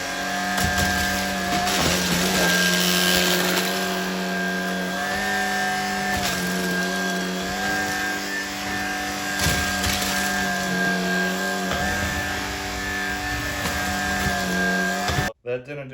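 A Shark Vertex DuoClean cordless vacuum runs continuously with a loud, steady motor whine while it picks up Fruit Loops cereal from the floor, then cuts off abruptly near the end.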